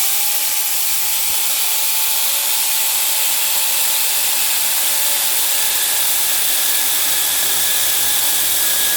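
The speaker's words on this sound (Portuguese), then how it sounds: "Eu tenho essa tora aqui de madeira e eu vou tentar cortar." An angle grinder fitted with a chainsaw attachment cuts into a wooden log, a loud, continuous high-pitched whine with a steady buzzing edge, close and unbroken, with no talking.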